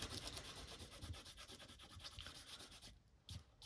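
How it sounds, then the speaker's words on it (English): Dried masking fluid being rubbed off a watercolour painting of layered foliage, making a faint, close, rhythmic scratchy rubbing that stops briefly near the end. "I started rubbing the masking fluid off"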